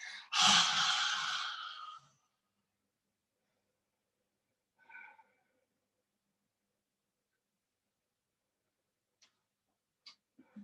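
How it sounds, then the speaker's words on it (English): One forceful open-mouthed lion's breath exhale during a morning yoga flow, a loud breathy rush lasting about two seconds, followed by a quiet lighter breath and faint ticks near the close. "Exhale, lion's breath."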